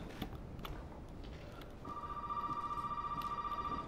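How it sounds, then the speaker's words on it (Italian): A telephone rings in the video game Resident Evil 7, a faint bright electronic trill that starts partway through and keeps repeating over a dim, rumbling room ambience. "Sentiamo che il telefono squilla"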